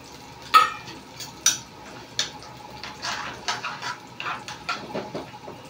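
A spoon scrapes and taps in a pan as dry ginger powder is stirred into roasted coconut rice, with a few sharp clinks followed by softer, quicker scraping strokes, close by and fairly quiet.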